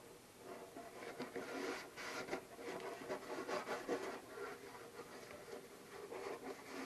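A towel rubbing finish onto a violin top, producing a continuous soft, close scrubbing hiss with gentle swells of pressure throughout.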